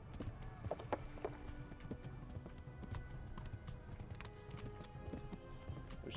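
Horse hooves clip-clop at a steady gallop in the medieval game Kingdom Come Deliverance, fairly quiet under a dense rumbling, rushing ambience with faint scattered clatter.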